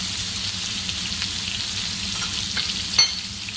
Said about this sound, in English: we want to fry these until it smells delicious